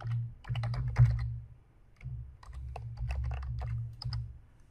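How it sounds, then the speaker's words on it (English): Typing on a computer keyboard while entering SQL Server account credentials, a close, fairly quiet series of quick key clicks in two bursts with a short pause between them, no talking. "I'm going to type in my SQL Server account"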